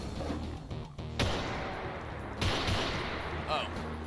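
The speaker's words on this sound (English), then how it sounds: "It's a rapid-fire sniper rifle. It's a semi-automatic sniper rifle." A semi-automatic sniper rifle in a Call of Duty weapons mod fires two sharp, loud shots about a second apart over a steady background hum, with a faint voice in between.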